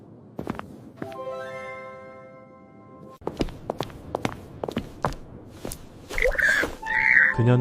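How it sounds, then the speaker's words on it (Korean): Heavy footsteps thud slowly toward a bedroom, close and spaced unevenly, with a sustained whistling tone partway through and brighter tonal sounds near the end. "공주는 무거운 발걸음으로 침실로 향했습니다."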